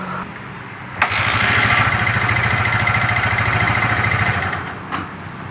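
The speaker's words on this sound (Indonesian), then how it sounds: "Engkol ini kerasa berat sekali mas bro." A motorcycle kick starter is cranked hard and feels heavy, giving a loud, steady, pulsing mechanical churn for about three seconds with sharp clicks at the start and end.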